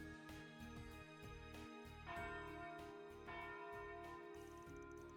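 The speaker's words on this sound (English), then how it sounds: "Oh, so the bell from the chapel in the artisanal district?" A chapel church bell in a video game's artisanal district rings for evening service, sounding faint and distant with repeated resonant strokes under a steady ambient music bed, with no talking.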